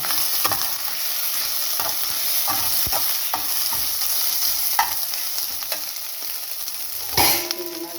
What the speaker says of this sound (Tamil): இதெல்லாம் ஃப்ரை ஆகிடுச்சு. இஞ்சி பூண்டு புதினா வெங்காயத்தாள்